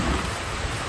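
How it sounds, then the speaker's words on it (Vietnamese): Steady, dense rain pours down outdoors in rural Vietnam, a close and continuous broadband hiss with no talking. "Về tới giờ mưa luôn."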